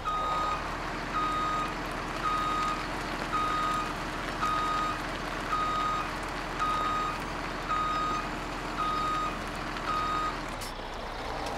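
Truck reversing alarm in Farming Simulator 17, a steady series of regular evenly spaced beeps over a constant engine drone, loud and close throughout before fading at the very end.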